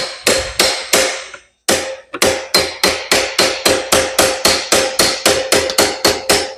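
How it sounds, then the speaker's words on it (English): A hammer strikes metal on a Yamaha IT175K motorcycle, loosening a stuck part, in a steady rhythm, about sixteen loud ringing blows close up, with one brief pause early on. "Bigger hammer."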